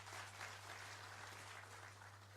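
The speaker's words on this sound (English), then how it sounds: "Another round of applause, kindly." An audience at a Kenya Maritime Authority World Maritime Day event applauds, a faint, even wash of clapping over a steady low electrical hum.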